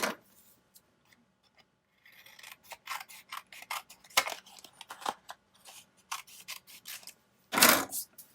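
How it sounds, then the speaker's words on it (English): Scissors snipping through paper for a Holly Hobbie journal, close and quiet, a series of irregular crisp cuts with short pauses and one louder rustle near the end. "Well, I'm just going to cut this."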